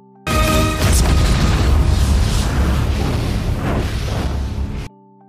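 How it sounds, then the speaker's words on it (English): A huge anime explosion unleashed by demonic powers: a loud, sustained roaring blast with rumbling low end that fills several seconds and then cuts off abruptly. "and there was a huge explosion"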